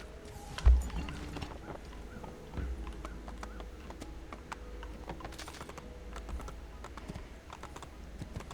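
Quick, light horse hoofbeats in Assassin's Creed II patter in a fast, even gallop, fairly faint, after an opening thump, over a soft background hum.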